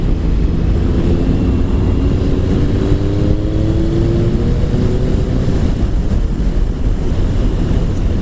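Triumph Sprint GT 1050 motorcycle fitted with a Scorpion Serket exhaust, ridden at low revs, its steady engine rumble rising slightly as the throttle opens a little, heard under heavy wind noise throughout.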